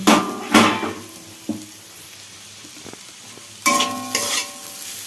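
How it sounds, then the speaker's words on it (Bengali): Bitter gourd and potato slices frying in a pan, a steady close sizzle broken by a few loud scraping stirs at the start and again near the end, with no talking. "এখন উচ্ছে আলু ভাজা করছি"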